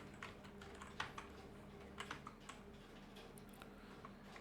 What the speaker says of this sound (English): then you can type the author name.